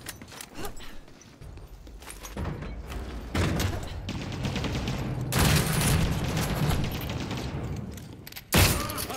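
Gunfire in a shooter video game: rapid bursts and single shots mixed with heavy booms and thuds, loud and close, continuing with short pauses throughout.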